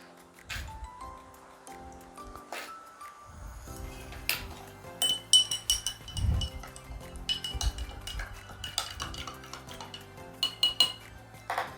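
A spoon clinks and taps against a glass of water as salt is added and stirred, giving repeated sharp close chimes with brief ringing tones over quiet background noise.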